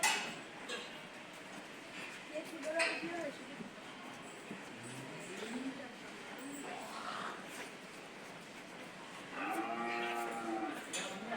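Cattle at the Meghdubi agro farm moo several times, with two drawn-out, rising calls standing out clearly against a steady background of farm noise and people talking nearby.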